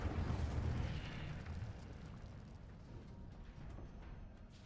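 An Incendio fire spell cast in Hogwarts Legacy bursts out as a loud, roaring whoosh of flame that swells briefly, then fades into a low rumbling tail.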